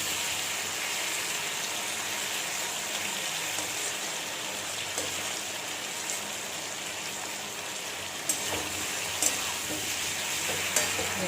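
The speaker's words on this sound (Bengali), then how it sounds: "এবার আস্তে আস্তে টমেটোগুলো খুন্তির সাহায্যে এভাবে ম্যারিনেট করে নিতে হবে।" Tomatoes are mashed and stirred with a spatula in a hot pan for a karahi curry, giving a steady sizzling fry with scraping stirs and a few sharp knocks against the pan.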